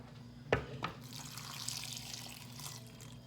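Water runs from a tap into an Instant Pot, a soft steady splashing stream after a brief clunk at the start, quiet and close.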